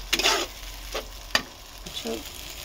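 Mustard and green chilli paste sizzles in hot oil while a spoon scrapes and stirs the pan in a few quick, close strokes.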